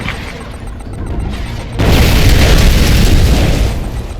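Artillery bombardment in the Command & Conquer 3: Kane's Wrath strategy game, heard as a sudden loud, deep explosive boom that sets off a sustained rumbling roar lasting several seconds before it slowly fades.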